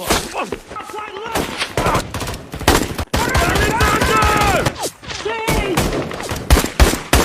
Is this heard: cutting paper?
no